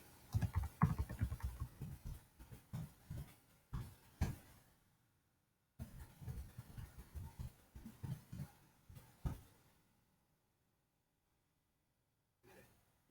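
A computer keyboard is typed on in bursts of quick, close keystrokes while a password is entered during a MySQL install on Linux, pausing briefly, then resuming before going quiet.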